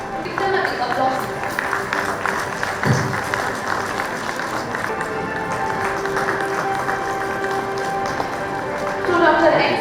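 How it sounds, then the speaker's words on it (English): Audience applause at the valedictory ceremony of an international horticulture conference, a steady wash of clapping that runs through the whole stretch with voices and a tonal background mixed in. "Give them a big applause."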